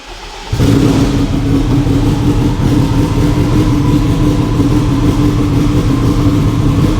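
An AWD Honda Civic Type R engine fires up after a brief crank and settles into a steady, loud, close idle with a constant low rumble and no talk.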